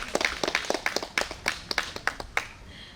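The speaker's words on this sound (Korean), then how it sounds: "여러분 다시 한번 박수 부탁드립니다" A small concert audience claps after a traditional Korean music performance, in a loose, scattered rhythm of distinct handclaps that thins out and stops near the end.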